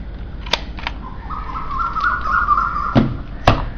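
A label printer runs a print job, a steady mechanical whir lasting about two seconds, framed by sharp clicks from the machine before and after, with no voices.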